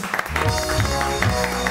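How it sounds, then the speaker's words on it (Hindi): A studio audience on a Pakistani morning show claps to welcome a guest doctor, a steady, fairly loud patter of applause with music or a low hum running underneath. "जोरदार तालियों में हम वेलकम करेंगे डॉक्टर मुजना को।"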